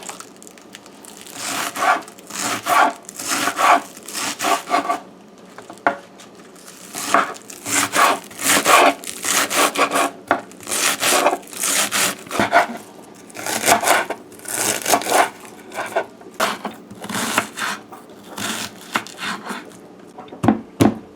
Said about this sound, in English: So we're gonna chop our seasoning while the noodles is boiling.